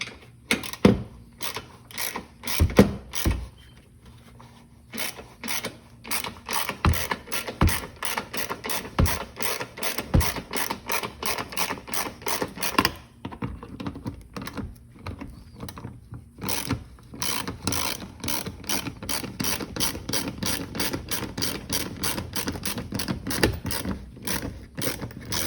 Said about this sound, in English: I'm just gonna get these 10 millimeter bolts out here and here